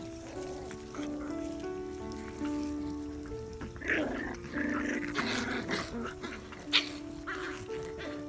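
A five-week-old Scottish terrier puppy growls playfully in short rumbling bursts, with little whimpers and yips mixed in, close by and lively.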